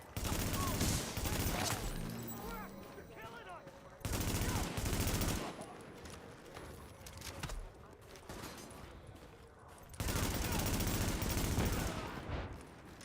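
Shotgun fire in The Division, a survival-mode shooter game: several loud, dense bursts of gunfire repeat in clusters across the stretch, with quieter game ambience between the volleys.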